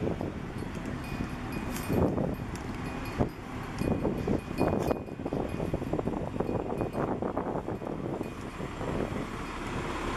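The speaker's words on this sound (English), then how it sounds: "I know you might be having a hard time hearing me with all the wind" Strong wind buffets the microphone outdoors at a new metro transit bridge bus terminal in Halifax, a steady, loud roar with gusty surges throughout and no voices.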